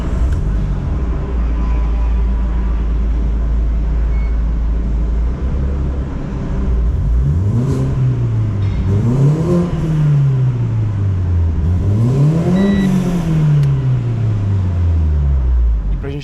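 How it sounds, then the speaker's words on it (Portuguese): A Renault Sandero RS engine idles steadily, then revs three times in succession, each rev a rising and falling swell over a constant low rumble, close and loud. "Na hora que eu liguei o carro, eu dei 3 aceleradas aqui."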